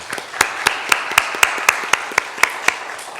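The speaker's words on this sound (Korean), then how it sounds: "이분들을 위해서 감사의 박수 한번 하겠습니다." Slow, evenly spaced rhythmic clapping from a church congregation at an anniversary worship service, about a dozen loud, distinct claps in unison with a steady beat.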